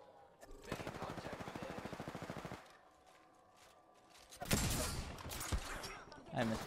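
Automatic weapon fire in a shooter video game: a sustained burst of rapid shots for about two seconds, a pause, then another loud, heavier burst of gunfire with scattered follow-up shots.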